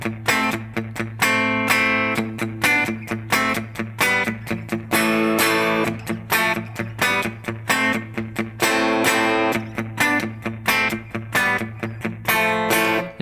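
A distorted electric guitar chugs through a driving riff of two-note chords, played in a tight, steady rhythm with short palm-muted stabs.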